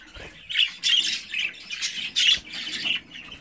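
A light blue pied budgerigar chick gives repeated harsh, raspy squawks in short close bursts, with brief pauses between calls and no other sound.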